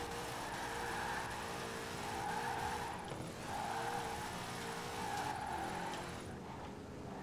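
A car spinning out in Forza Horizon 4, with a sustained engine drone and wavering tyre squeal rising and falling over several seconds, steady and moderately loud with no talk.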